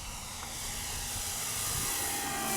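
A Flightline Spitfire RC model plane flies at full throttle, its electric motor and propeller giving a steady, buzzing whine with airy hiss that holds at a constant, fairly quiet level throughout.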